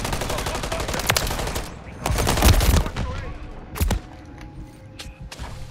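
Bursts of rapid automatic gunfire in a Call of Duty match, aimed at a helicopter, with loud clustered volleys and thuds over a few seconds, then quieter scattered shots; background voices are faintly present.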